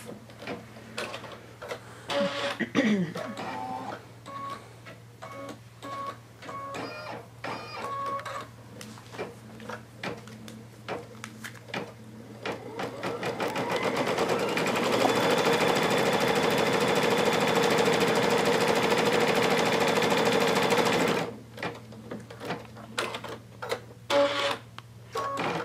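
Home embroidery machine stitching a Kimberbell design, a steady rapid mechanical whirring and clatter with a constant hum underneath, rising to a louder, denser stretch in the middle before settling back to its regular rattling pace.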